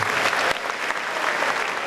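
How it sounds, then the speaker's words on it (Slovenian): A hall audience claps steadily as the President of Slovenia arrives as guest of honour. The applause is dense and sustained, with no pauses from start to finish. "predsednica republike Nataša Pirc Musar, ki so jo ob prihodu v dvorano pozdravili z aplavzom."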